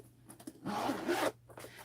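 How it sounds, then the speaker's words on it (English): Double zipper pull on a waterproof canvas bag being drawn open, a short scratchy zip of about half a second, close and fairly quiet, with faint handling sounds before and after. "So it's a double zipper pull here."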